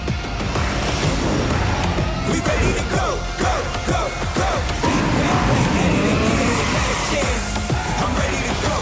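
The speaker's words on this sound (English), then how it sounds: "With Rift Rally, you can drive, drift, or stunt Hot Wheels in mixed reality" Hot Wheels cars racing and drifting in the mixed reality game Rift Rally: loud, busy engine whine with repeated tire-squeal sweeps and skids, a few impact hits, continuous and up close.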